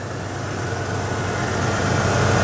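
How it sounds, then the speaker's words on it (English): A 5.8 liter truck engine running at a steady idle, a continuous low rumble with broadband mechanical noise that swells slightly toward the end. "Go ahead and go to the engine. We'll fire this up."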